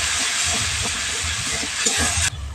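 Spice paste hits hot oil for alu dum and hisses in a loud, dense, continuous sizzle with faint stirring knocks underneath, cutting off abruptly near the end.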